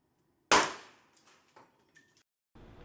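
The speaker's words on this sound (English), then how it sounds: "Oh no, it didn't survive another explosion." A combustion-powered spinner blows apart in one sharp, loud explosive bang, followed by brief scattered clatter of debris and then a rising rumble near the end.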